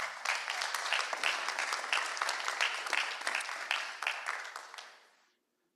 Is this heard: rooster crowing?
no